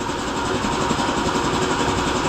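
A tuned motorcycle engine runs steadily during a test, a continuous loud buzzing drone with a fast even throb and no pauses, close by.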